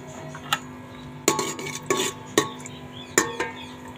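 Garlic and onion stirred in hot oil in a pan for Manchurian gravy, a utensil scraping and clinking against the pot in several sharp knocks amid a low sizzling background, close by.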